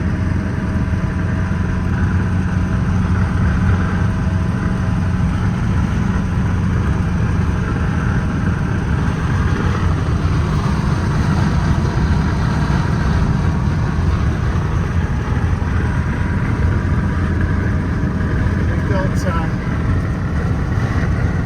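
A Citroen Traction Avant Light 15 engine drones steadily and loudly from inside the car through a manual gear change, a constant close rumble with road noise throughout.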